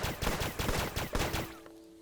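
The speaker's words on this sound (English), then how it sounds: "I'm having a little bit of fun dual wielding pistols" Two pistols wielded at once fire in the video game Starbound: a rapid, uneven string of sharp, loud shots over about a second and a half, then a short fading tail and quiet.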